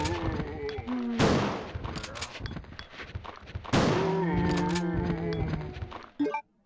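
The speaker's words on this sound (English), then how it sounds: "Nope, get out the shotgun." Shotgun blasts aimed at zombies in Resident Evil 2, two loud sharp booms with decaying tails, surrounded by game noise and growls.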